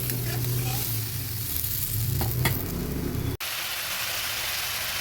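Kashmiri red chilli powder and turmeric sizzle with a splash of water in a pan, a steady close frying hiss with light stirring that cuts off abruptly partway through, leaving a duller background noise.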